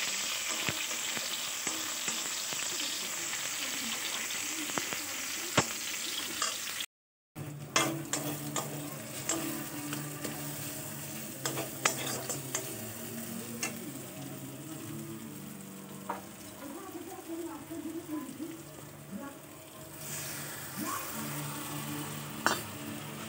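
Chopped onion sizzles and crackles in hot oil while being stirred, with a steady frying hiss, clinks of a utensil against the pan and a brief cut near the start; no one speaks, during home cooking of ghugni.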